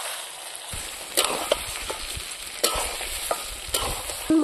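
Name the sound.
mutton pieces being fried and stirred in oil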